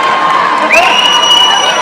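A boxing crowd at Abergavenny Market Hall cheers and whoops for the winner, a loud, sustained roar of many voices with rising shouts and whistles filling the hall.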